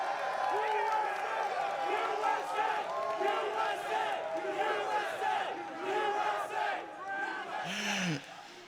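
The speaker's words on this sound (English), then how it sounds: "the crowd is absolutely thrilled here right now after that huge win against the championship point leader" Crowd at the 2015 Pokémon US National Championships VG Senior Finals roaring and shouting after a win, a dense sustained cheer of many voices at moderate distance, with a single louder yell near the end.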